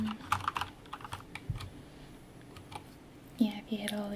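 Clacking keystrokes on a Corsair K70 Lux RGB mechanical keyboard, close and crisp in uneven bursts with pauses, with soft whispered speech partly overlapping toward the end.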